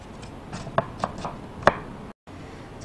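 A knife slices bellflower root (doraji) into thin strips on a cutting board, a few distinct close taps of the blade, then a moment of silence.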